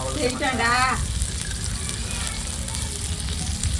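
Onions fry in a pan with a dense, close sizzle that holds steady the whole time, and a short stretch of voice rises over it near the start.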